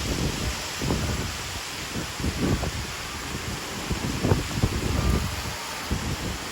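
Hurricane wind sweeping over Cuba, a loud, continuous roar of gusts battering the microphone, with rustling and surges that rise and fall, and no voices.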